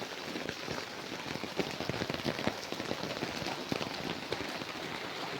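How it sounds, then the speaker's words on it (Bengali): Heavy early-morning rain falls on a quiet town in Hooghly, a dense, steady hiss of drops hitting surfaces close by with no voices. "দেখো বন্ধুরা কত বৃষ্টি"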